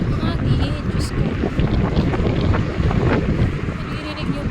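Strong wind buffeting a handheld microphone on a cold sidewalk in Budapest, a loud, steady roaring rumble that never lets up, with a voice faintly mixed in.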